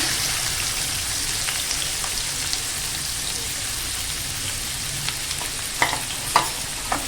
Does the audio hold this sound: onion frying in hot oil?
yes